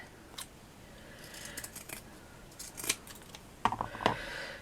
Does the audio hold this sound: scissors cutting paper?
yes